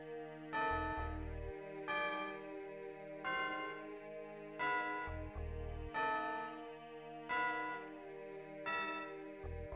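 A Daikatana character on the Nintendo 64 whistles a seven-note tune, heard as a sequence of sustained, bell-like tonal notes of steady loudness, each held for about a second with short gaps between them, and no talking.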